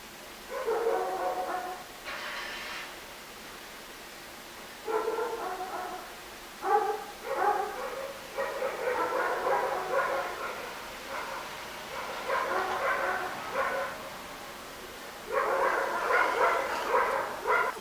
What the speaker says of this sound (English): hope the dogs don't bark now